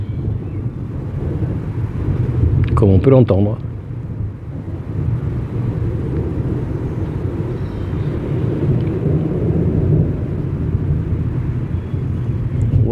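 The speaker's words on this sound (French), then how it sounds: "avec ce roulement de tonnerre quasiment ininterrompu quand même" Nearly continuous rolling thunder under an open sky makes a low, unbroken rumble that fills the whole stretch, with someone speaking briefly over it near the start.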